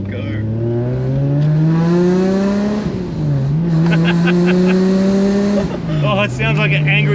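A project car's engine drones loudly while driving, its pitch climbing and dipping through gear changes, with voices talking over it.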